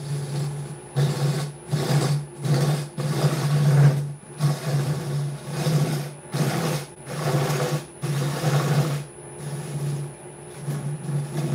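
A wood lathe hollowing the centre of a wooden fruit bowl, with a steady low hum and cutting noise that swells and fades in repeated bursts as the gouge goes in and out, close and fairly loud.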